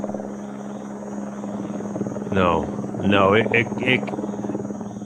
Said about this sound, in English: is that the chopper?